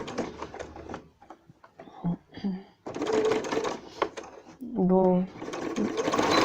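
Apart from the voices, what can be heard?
sewing machine stitching fabric with backstitch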